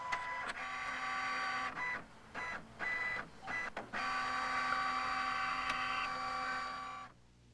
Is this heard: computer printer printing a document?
yes